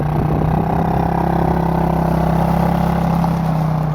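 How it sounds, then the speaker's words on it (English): A tiny 72cc quad engine idles steadily with a constant mid-pitched drone and a buzzy hum. It runs loud and close, with no talking over it. "Honestly, I'm impressed for a 72cc engine."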